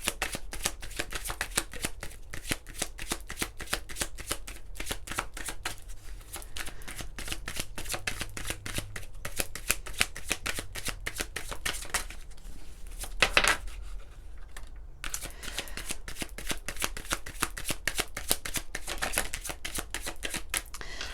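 Oracle cards are shuffled continuously by hand, producing a dense, steady run of crisp riffling clicks at close range, with a brief louder flurry near the middle and no voices.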